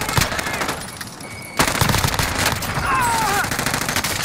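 Rapid automatic gunfire from a video game rattles in dense, continuous bursts, loud and close, with a brief pause before the shooting resumes at full intensity.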